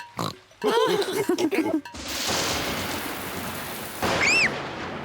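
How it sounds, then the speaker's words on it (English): A cartoon thunderstorm: after squealing, oinking cartoon pig voices, a loud rumbling crash of thunder rolls in with steady rain noise, and a high squeal cuts through near the end. "Mummy, the thunderbangs are very loud."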